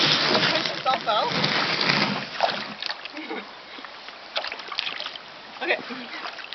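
A kayak pushes off and splashes in water, with sloshing and paddle splashes up close and a person talking over the top.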